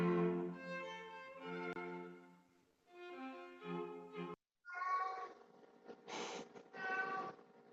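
A pet cat meows repeatedly to be let outside while rain pours, with drawn-out, wavering cries in several bursts close to the microphone.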